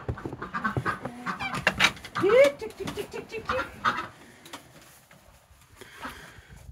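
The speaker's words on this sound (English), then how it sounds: "Then from here we got the chickens to take care of." Chickens cluck and squawk up close, with a brief honk-like call partway through, while a person talks over the birds.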